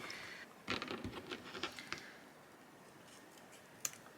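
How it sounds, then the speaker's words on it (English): Small scissors snip excess acetate sheet several times in quick, quiet clicks, then a pause and one last sharp snip, close and soft. "Just using a pair of really small scissors just to cut that excess acetate off there."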